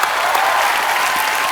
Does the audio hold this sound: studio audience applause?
yes